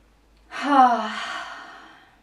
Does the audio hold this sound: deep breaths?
yes